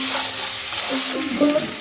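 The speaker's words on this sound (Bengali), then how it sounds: "এবার আলুগুলো ভেজে নেব।" Potatoes frying in oil in a wok for a restaurant-style egg curry, giving a steady close sizzle with soft stirring clatter throughout.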